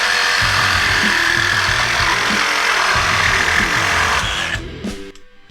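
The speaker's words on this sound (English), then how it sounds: "for years, I cut conduit with a reciprocating saw, so we're gonna try it out." A DeWalt DCS382 cordless reciprocating saw cuts through thick conduit with a loud, close, steady buzzing whine and rattling blade strokes. It stops abruptly near the end.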